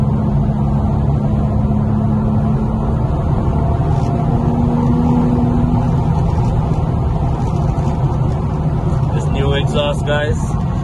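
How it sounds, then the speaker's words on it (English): Exhaust drone from a full bolt-on Infiniti Q50 Silver Sport cruising at night, a loud steady low engine rumble with shifting tones inside the cabin, continuous throughout with some faint rattles near the end. "Exhaust, guys, sounds hella good."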